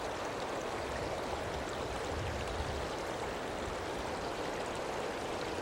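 Steady rushing water of a Himalayan river in India flows continuously, a dense even wash of sound with no breaks or voices.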